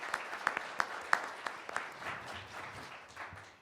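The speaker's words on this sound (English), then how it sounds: "Let's have another round of applause for Loretta for moderating for us today as well" Lecture audience applauding a moderator at the close of a talk, a steady wash of many clapping hands with a few sharper, louder claps early on, gradually thinning and fading toward the end.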